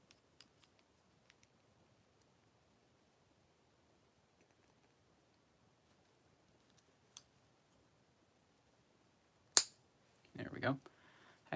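Plastic Lego cannon pieces snap into red plastic cradles, a few sharp isolated clicks near the end, the last one forceful, after long near-silence with faint ticks.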